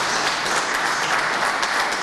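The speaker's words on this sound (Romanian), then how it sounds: "vă rog să-mi permite să-l aplaudăm" An audience at a Romanian sports gathering breaks into steady, dense applause that honors a guest who is present. The clapping carries on evenly at full strength across the whole moment, and no voices rise above it.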